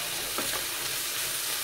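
Potatoes frying in a pan while being stirred, a steady soft sizzle with a couple of brief scraping stirs near the start, fairly quiet throughout.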